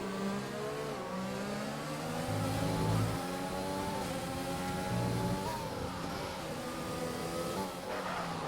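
Formula 1 race cars roar through the Netherlands Grand Prix in an F1 video game, with a continuous high-revving engine drone that shifts pitch through gear changes and slight passes, loud and steady throughout.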